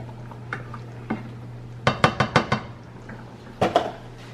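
A spoon stirs cheesy rice in a pot, making a quick burst of scraping clinks against the metal, then a second short cluster after a pause, all fairly close and with no talking.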